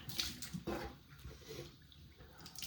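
A razor is rinsed under running tap water after shaving upper lip stubble, a brief close splash followed by a steady gushing stream, moderately quiet.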